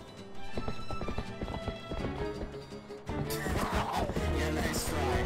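Horse hooves clip-clop in a quick steady rhythm and a horse neighs in Zelda: Twilight Princess, close and clear over game music.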